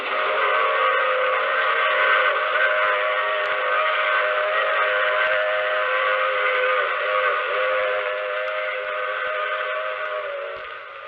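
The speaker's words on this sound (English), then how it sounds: "I take this same train every week at this same time." A train sound effect from a radio drama plays as a continuous, steady whistle-like tone of layered pitches. It holds near-constant for about eleven seconds with no voices and fades slightly at the end.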